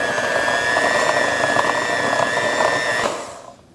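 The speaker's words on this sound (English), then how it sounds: "we're going to carefully whisk this together" Vanilla-flavored candy mixture being whisked in a bowl for a Christmas candy, a steady, loud whirring churn that holds evenly for about three seconds before quickly fading out.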